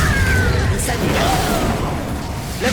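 The Incendio fire spell is cast in Hogwarts Legacy: a loud burst and whoosh of flame amid busy game effects, with a second sharp burst right at the end.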